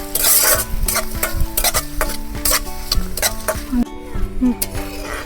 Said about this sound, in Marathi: कांदा ना चांगला असा गुलाबी होईपर्यंत तळून घ्यायचा परतून घ्यायचा